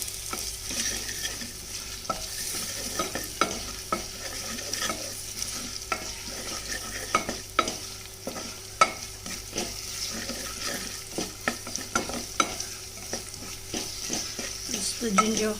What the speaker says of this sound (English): Give it a gentle saute.